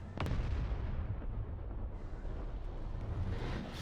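Rocket fire in the War Thunder video game comes as a loud, continuous rumbling roar with a sharp blast near the start, dense and heavy throughout.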